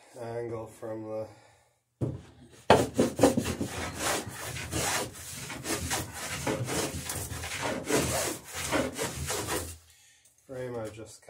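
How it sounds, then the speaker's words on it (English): A hand plane shaves the edge of a wooden boat plank in a series of rasping strokes, close and crisp, with someone talking briefly before and after. "planing it into the edge of the plank"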